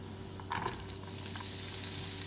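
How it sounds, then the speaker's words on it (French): Onions frying in hot sunflower oil give a brief, close, steady sizzle that swells slightly, with a small clatter near the start and no talking. "les oignons, on va laisser brunir légèrement. On les fait fondre dans l'huile"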